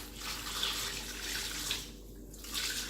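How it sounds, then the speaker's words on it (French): Hot water is poured over catfish being cleaned, a steady splashing pour that briefly thins out partway through and then resumes, with no talk. "Je vais mettre l'eau chaude que j'ai chauffée pour enlever encore plus de saleté."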